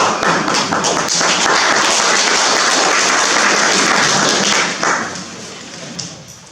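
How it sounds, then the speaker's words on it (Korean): Enthusiastic clapping from the crowd at a farmers' policy assembly, a thick burst of many hands that stays strong for several seconds, then thins out and fades into a few scattered claps. "힘찬 박수로."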